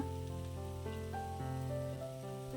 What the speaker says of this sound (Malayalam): ഇനി ഇതെല്ലാം കൂടി ഒന്ന് വഴറ്റിയെടുക്കണം